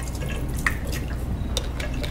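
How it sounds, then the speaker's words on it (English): Water is poured out of a container in small, irregular drips and trickles over steady background hiss, with no talk. "Now, if I were to pour out a little bit of this water,"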